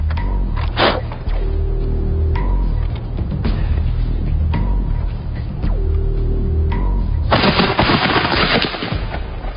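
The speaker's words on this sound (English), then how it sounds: "gunpowder is added to the pan to prime the weapon for firing" A matchlock musket firing, with several loud, close gunshot cracks and a long rattling volley near the end, over a steady low hum and no talking.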